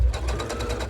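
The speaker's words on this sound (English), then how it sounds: "we're going to sew the bag lining together" Sewing machine stitching a drawstring bag lining, a steady rapid run of needle strokes with a low motor hum, close and continuous without pause.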